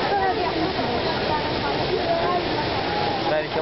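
Continuous broadband roar of cascading water at the Krka waterfalls in Croatia, steady and fairly loud, with voices speaking over it.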